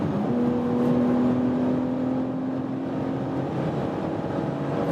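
A BMW X4 M Competition cruises at high speed on the autobahn, its tuned engine giving a steady, moderately loud low hum inside the cabin with a faint sustained tone and road rumble.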